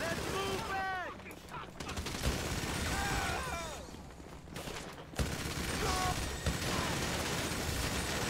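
Sustained gunfire in GTA 5 Online during a tank and flatbed-truck escape, a dense crackling barrage of shots running throughout with a voice talking over parts of it.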